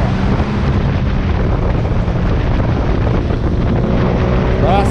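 A modified Yamaha MT-07 motorcycle with a 690 cc engine rides along a mountain road, its steady engine drone buried in loud, continuous wind rush, with a brief rising engine whine at the very end.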